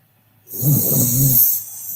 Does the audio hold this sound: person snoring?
yes